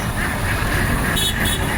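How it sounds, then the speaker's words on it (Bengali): Many ducks carried in a moving vehicle quack in a noisy cluster over the vehicle's constant drone. "এই যে হাঁস"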